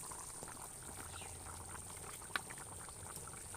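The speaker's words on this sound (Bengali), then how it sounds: "জল দেওয়ার পরে ফুটছে, দেখতেই পাচ্ছেন" Papaya and fish curry bubbling in a covered pan after water is added, a soft steady simmering hiss with faint bubbling, low and continuous, with one brief small clink.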